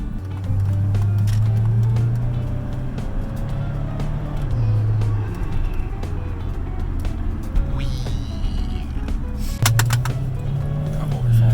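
A 2003-or-later SAAB 9-3 with freshly replaced strut bearings on a test drive: steady engine and road drone from inside the car, with the revs rising and falling, a few faint clicks and rattles, and no voices.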